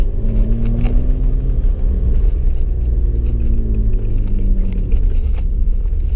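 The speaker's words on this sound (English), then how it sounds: "Here we can enjoy the sound of our car." A 1991 BMW 525i E34 engine hums steadily on a village drive, a loud, continuous low rumble with gentle shifts in pitch as the car rolls along, with no voices.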